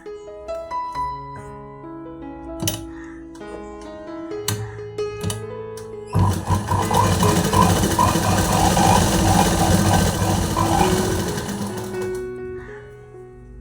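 A sewing machine stitches a plain blouse at a tailoring shop, starting midway with a fast, continuous mechanical whirr and rapid needle clatter after earlier short knocks and handling sounds, with a voice speaking at times.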